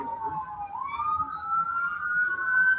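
A police car siren wails steadily in a driving video game, a single rising and falling tone under faint game background noise.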